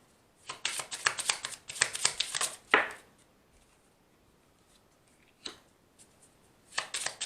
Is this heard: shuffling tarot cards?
yes